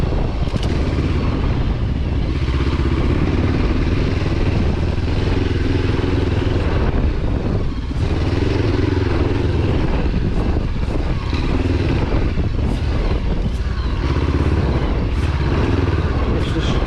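A heavy motorcycle engine droning steadily close up, with wind rush and occasional thumps and rattles as it rides over bumps on short-travel suspension.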